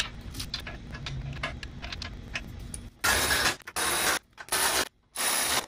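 A tool clicks and ratchets in quick bursts with short pauses between them, close and fairly loud, as nuts are tightened to hold the bumper bar on a 2017 BMW X4 M40i during a Curt 13316 hitch install.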